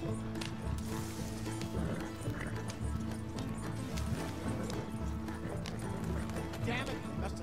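Horses gallop in the Red Dead Redemption 2 video game, a steady clip-clop of hooves with a whinny, running continuously under game music and other noise.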